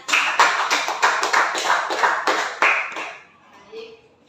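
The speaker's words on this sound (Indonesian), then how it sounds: "Oke, berikan tepuk tangan." A classroom of students claps hands together, a series of sharp, fairly close clap bursts in a rough rhythm that tails off, with a hint of children's voices.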